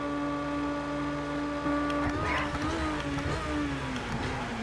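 A race car engine in Project Cars 2, heard as a steady, close, droning hum, with a brief rev and shift midway through.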